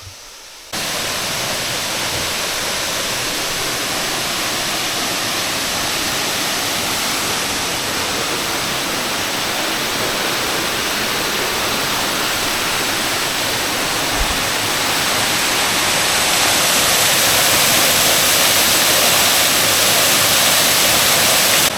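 Water pouring through a jumble of rocks from a collapsed cave roof into a small waterfall in a wooded gulf, a steady, broadband rushing roar that holds constant and close throughout.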